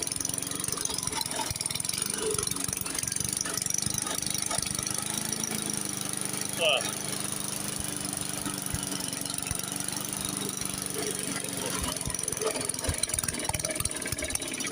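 The small engine of a very old push lawn mower, just repaired, runs steadily nearby with an even, buzzing drone and a faint whine throughout.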